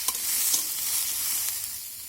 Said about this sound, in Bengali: সমস্ত সবজি দেওয়ার পর একটু নাড়াচাড়া করে নেব।